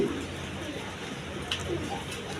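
A pair of pigeons coos softly and briefly against a noisy market-like background, the low calls faint and partly masked.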